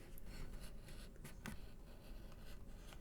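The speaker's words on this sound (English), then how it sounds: "We draw a line around it." A pen or pencil draws a line around a paper roll in a craft project, faint scratchy strokes in a few short bursts, quiet and close with no talk.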